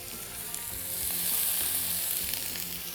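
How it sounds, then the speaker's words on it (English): Meat fat sizzles and fries steadily in a hot pan, a continuous close crackling hiss that swells slightly midway, with faint stirring or scraping underneath and no talking. "So putting this fat down first, we should hear that sizzle straight away"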